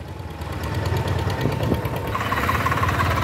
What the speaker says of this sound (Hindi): तो भाई वो ट्रैक्टर हमारा चल चुका, देख लो बिल्कुल भी कोई फर्क नहीं है बिल्कुल ट्रैक्टर पे।